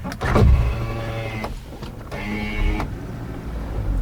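The power window of a 4x4 closes before off-road driving on a trail near Abaeté, Minas Gerais. The electric motor whines and buzzes up close, with short pauses and a soft thunk as the glass seats.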